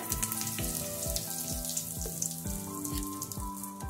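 Curry leaves and asafoetida sizzling in hot oil for a red chilli garlic chutney, a close, continuous crackling fry with rapid popping spatters and bursts repeating throughout, no talk.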